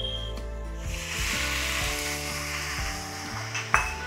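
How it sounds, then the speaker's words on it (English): Prepared chilli fish sauce poured onto fried basa fish in a hot pan, giving a steady close sizzle and frying hiss with light stirring scrapes, and a brief sharper spike near the end. "I'm going to add the sauce which I had prepared earlier."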